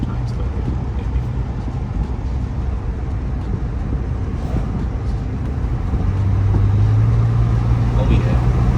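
Steady engine drone and road noise from a 2010-or-later Toyota FJ Cruiser on a test drive after an engine harness replacement, rising slightly in pitch toward the end, with people talking inside the cabin.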